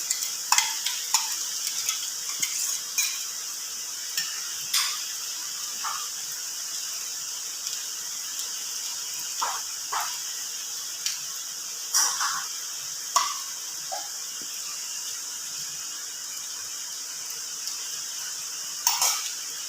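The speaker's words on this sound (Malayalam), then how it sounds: "ഇതെല്ലാം കൂടെ നന്നായിട്ടൊന്ന് ഇളക്കണം." Crushed coconut, green chilli and garlic are stirred in a hot pan, giving a steady bright sizzle with scattered scraping clicks from the spoon. No one speaks.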